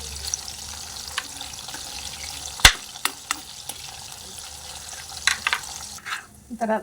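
Dry fish pieces fry lightly in shallow oil and are turned in the pan. A soft, even sizzle carries a few sharp utensil clicks and knocks, and it thins out near the end.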